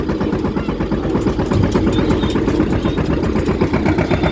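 A tractor engine runs steadily near the microphone with a dense, rhythmic mid-low chug and slight vibration, holding constant throughout with no voices.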